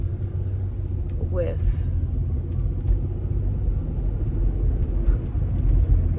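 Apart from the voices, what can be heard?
cars driving in morning road traffic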